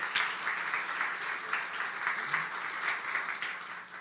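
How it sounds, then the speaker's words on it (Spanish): A church congregation claps together in praise during a Spanish-language sermon, a dense, sustained round of applause that swells and holds steady throughout. "Denle palmas al Señor, porque Él se las merece."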